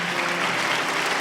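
Steady applause from a church congregation during a retirement and ordination service, many hands clapping evenly throughout.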